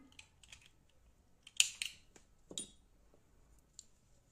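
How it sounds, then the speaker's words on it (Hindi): Scissors snip through knitting wool yarn in a quiet room, a couple of crisp close cuts with light handling clicks around them and no talking. "इस ऊन को काट लेंगे हम।"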